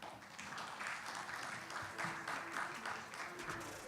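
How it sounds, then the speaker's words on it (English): Conference audience applauding at a plenary session on higher education and lifelong learning, a dense, even wash of clapping that holds steady throughout at moderate loudness. "We can give him a big applause, please."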